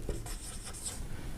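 Chalk or marker scratching across a classroom board in a short, continuous stroke, close and fairly quiet with a faint room hum beneath.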